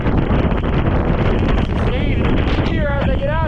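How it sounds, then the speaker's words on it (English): Strong blizzard wind roars constantly against the microphone outdoors near water in Maine, loud and buffeting throughout, with a voice speaking briefly toward the end. "But it is serious wind."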